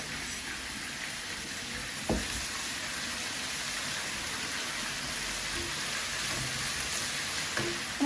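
Ginger and garlic sizzling with browned onions in hot oil, a steady dense hiss close by with a couple of brief clinks from stirring and no talking.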